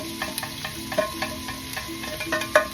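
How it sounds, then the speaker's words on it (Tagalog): Garlic and onion sizzle in a hot pan for a beef dish flavored with ginger, giving a steady frying hiss with occasional light clinks of stirring and no voices. "ihulog na po natin ang bawang at saka sibuyas"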